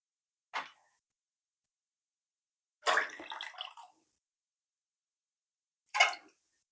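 Finely chopped cabbage is washed in water, giving three short, quiet splashing swishes separated by stretches of silence.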